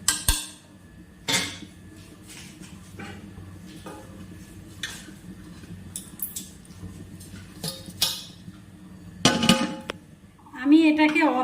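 A metal lid clanks onto a pot while Gobindobhog rice pulao cooks, with several sharp knocks and scrapes of cookware spread across the stretch, a cluster of clatter near the end and a voice briefly at the close.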